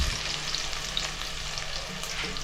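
Two onions frying in about two bowls of hot oil, a steady dense sizzle with faint stirring scrapes running unbroken from start to end, close and fairly loud, no voices.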